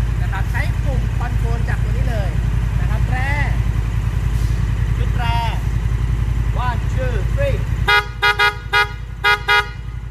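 A Honda Africa Twin motorcycle horn honks in four short, evenly spaced beeps after a few seconds of idling engine and scattered tones.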